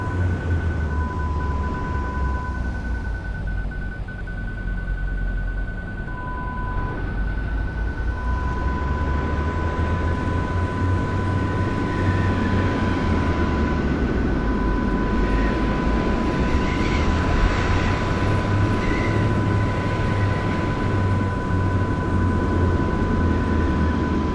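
Diamond DA62 twin-engine aircraft in the Prepar3D flight simulator, throttled back into a spin, giving a steady low engine drone with a constant tonal whine and airy rushing that swells midway and stays loud throughout.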